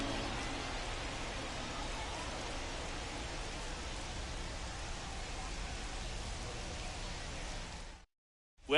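Steady, dense hiss of rain falling across a baseball game in a video game, constant and even for about eight seconds before cutting off abruptly to silence near the end.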